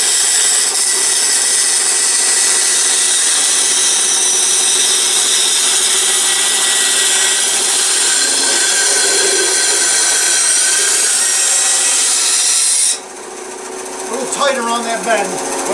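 A power saw cuts through an aluminum fuel system part for a 1974 Honda XR75, a loud, steady grinding whine running unbroken for about thirteen seconds before cutting off into quieter handling noise.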